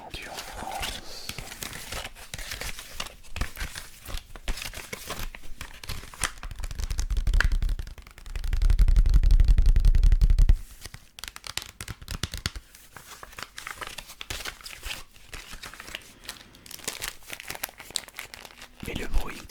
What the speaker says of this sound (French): le bruit des protège-cartes est, je trouve, plus relaxant que les boosters sous blister rigide